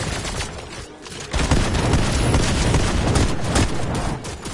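Turret gunfire in a multiplayer shooter game: a dense, loud stream of rapid shots and booms that grows heavier after a brief lull and keeps up steadily to the end.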